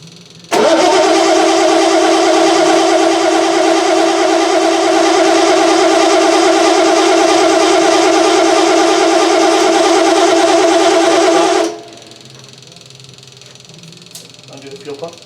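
A 1976 Triumph TR6 engine cranks continuously on the starter for about eleven seconds, a loud, even mechanical churn that stops abruptly, leaving quiet shop noise.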